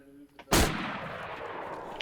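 A single loud gunshot cracks out in the DayZ video game, followed by a long rolling echo that decays over a couple of seconds, with a faint fainter sound just before it.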